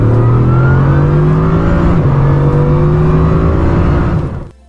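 A Bugatti supercar accelerates hard, its engine droning loud and steady as the pitch climbs through a gear change, then cutting off abruptly near the end.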